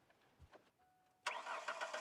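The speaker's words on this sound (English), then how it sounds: "Starting the truck, check for any leaks." A Ford Ranger truck with a 2.5L four-cylinder engine cranks and fires up after an EGR pipe replacement, with a short quiet lead-in, a brief whine, then a sudden loud catch into a running engine nearby.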